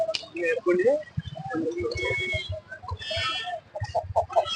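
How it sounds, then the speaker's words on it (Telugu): Chickens held in a basket at a busy tribal Monday village market cluck and squawk in short bursts, mixed with steady nearby talking and crowd chatter. "కోళ్ళు కొనుక్కున్నారండి కోళ్ళు తట్టలో ఉన్నాయి"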